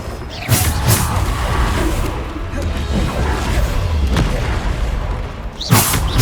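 In the Hogwarts Legacy video game, Bombarda explosion spells go off as deep booms mixed with whooshes and crashing impacts over a continuous rumbling combat background.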